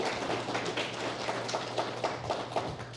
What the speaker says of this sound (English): Let's have a round of applause for both of the candidates.